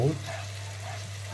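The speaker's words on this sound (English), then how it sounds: "I have some tomato juice boiling here with a little bit of a pinch of sugar, a pinch of salt" Tomato juice with a pinch of sugar and salt boils in a pot on the stove, giving a soft continuous bubbling hiss over a steady low hum after a brief opening noise.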